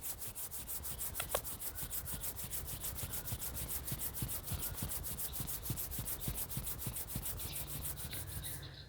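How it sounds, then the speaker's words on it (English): Palms rubbing together slowly and steadily in a quiet meditation setting, a soft continuous dry friction with a regular back-and-forth rhythm, close and faint, with no voices. "Join your both palms very slowly. Rub your palm."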